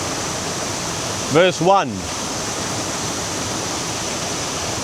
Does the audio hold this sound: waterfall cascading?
yes